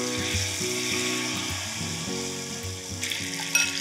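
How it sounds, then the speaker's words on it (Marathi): Batter-coated paneer pieces drop into hot oil over high heat, giving a bright, steady hiss of deep frying with a tonal background sound running underneath. "हे आता सोडूयात पटापट तेलामध्ये आणि हाय हीटवरच।"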